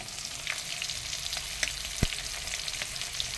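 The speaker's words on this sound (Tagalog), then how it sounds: "Piniprito mo na yan guys ha." Malasugit fish fries in a pan for mixed seafood with coconut milk, a steady close sizzle broken by a few soft pops and one sharp clink near the middle.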